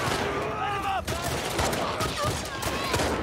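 Rapid bursts of gunfire from The Last of Us Part II, a dense fusillade of shots layered over game sound with excited talk running through it.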